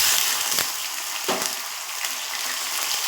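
Onion paste frying in hot oil with nigella seeds in a kadai, giving a steady loud sizzle with a few sharp pops and stirring scrapes.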